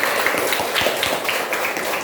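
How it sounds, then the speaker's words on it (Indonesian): Students clap their hands together in a classroom, a short burst of scattered, overlapping claps at close range lasting about two seconds. "Ya, tepuk tangan."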